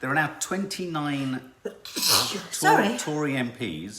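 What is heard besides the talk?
sneeze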